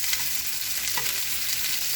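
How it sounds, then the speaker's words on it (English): Ahi tuna coated in sesame seeds searing in hot oil in a pan: a bright, continuous sizzle with small crackles and pops from the seeds, close and steady, with no talk. "we want to sear the meat, but we also don't want to burn our sesame seeds"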